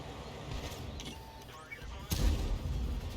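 A tank gun shot in a World War II tank game, a sudden heavy boom after low engine rumble and scattered battle noise, with someone talking faintly beneath.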